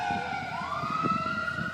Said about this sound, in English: We're going to let this siren pass by.